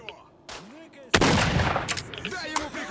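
Gunfire in the shooter game S.T.A.L.K.E.R. Shadow of Chernobyl: a sharp, loud shot cracks out, followed by another report and a scatter of further shots and echoes, with faint voice-like sounds in the background.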